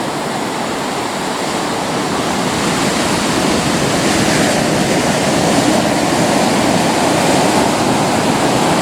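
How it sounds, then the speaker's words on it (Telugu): Small, gentle ocean waves on a quiet, empty beach, heard as a loud, continuous surf wash that swells slightly without distinct breaks. "అలలు కూడా ఏమంత పెద్దగా లేవు"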